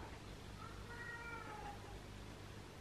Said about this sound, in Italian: va dall'altra parte e fa questi miau